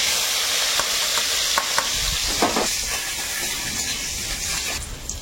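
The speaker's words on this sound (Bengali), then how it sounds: "কড়াইতে তেল দিলাম, তেলের মধ্যে শুকনো লঙ্কা, পেঁয়াজ কুচি আর রসুন কুচি।" Dried red chillies, chopped onion and garlic sizzle in oil in a wok, a continuous close hiss with occasional crackles and stirring scrapes, and no talking.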